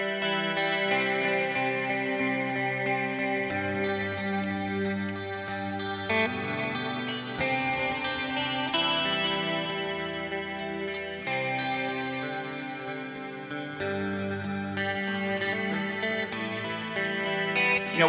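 A simple, sustained electric guitar part played through chorus, delay, multi-delay and heavy reverb, with ringing chords that wash and overlap continuously, loud and steady with no talking.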